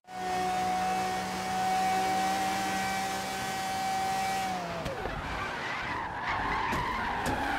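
Tires squeal loudly and steadily in a long drift in the video game Forza Horizon 3, over a droning race car engine whose pitch drops sharply near the end, followed by scuffing skid noise and a few sharp knocks.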